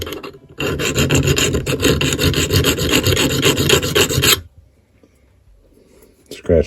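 A metal file rasps rapidly and rhythmically against the steel hammer of a Remington New Model Army revolver. The strokes are close and loud for about four seconds, then stop, leaving faint handling noise.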